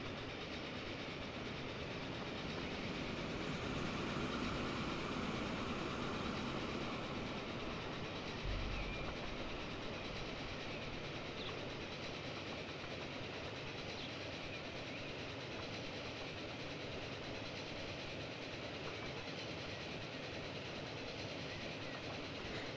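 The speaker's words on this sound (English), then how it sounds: "Oh look, there's a freight train coming the other way." Freight train passing the other way in Transport Fever 2, a steady rumbling rail noise with a faint clickety-clack that holds at an even level throughout, with a brief low thump partway through.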